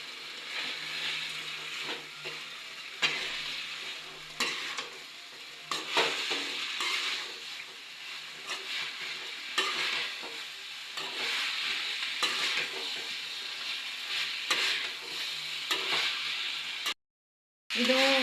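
Gobi manchurian stir-fried in a chili powder and tomato sauce with no added colour, a steady close sizzle and frying hiss with repeated scraping stirs against the pan, continuous without speech.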